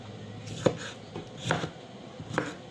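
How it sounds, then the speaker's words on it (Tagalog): A knife cutting a tomato into quarters on a board, three distinct chopping knocks spaced about a second apart, close and fairly loud against a quiet kitchen background, nobody speaking. "Slice lang natin siya sa apat."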